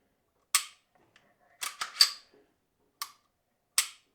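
Dry-fire function check of an unloaded Beretta APX A1 pistol, several crisp metallic clicks of the trigger and reset spaced apart in a quiet room.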